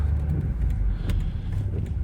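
A 2014 Volvo XC90 2.4 diesel AWD engine hums low and steady from inside the cabin as the SUV pulls away, with a constant rumble of road and motor noise.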